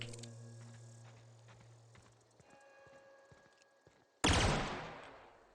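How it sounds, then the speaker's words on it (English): A burst-fire pistol in the sci-fi shooter The Outer Worlds lets off a sudden loud burst of shots near the end, cutting through quieter game ambience and a steady hum beforehand. "Looks like a burst fire pistol to me."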